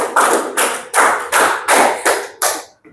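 Seven sharp hand claps in a steady rhythm, each a crisp, close burst with a short ring after it, and no talking.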